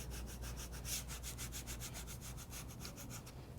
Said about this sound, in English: using your scraper tool, press the transfer tape over